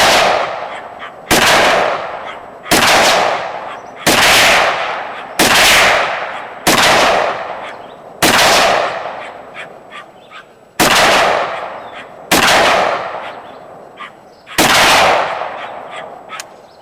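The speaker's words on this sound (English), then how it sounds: "I got 10 rounds in there, so we're gonna fire at the sun drop bottles" An SKS rifle fires about eleven sharp, loud, echoing shots at soda bottles outdoors, spaced roughly one to two seconds apart, each crack trailing off in a long reverberant tail.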